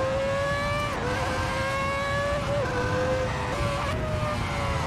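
Formula One car engine in a racing video game, played with a MOZA Racing FSR wheel while drifting: a loud, high, whining engine note that rises and drops sharply several times as the revs change, continuous throughout.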